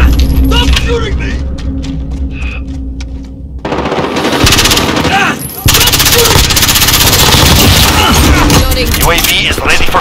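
Rapid automatic gunfire from Call of Duty MW2 multiplayer, dense bursts building from about four seconds and running almost continuously to the end, loud and close, with voices speaking over the action.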